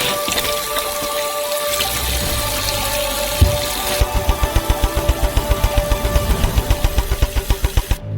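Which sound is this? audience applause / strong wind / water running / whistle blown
water running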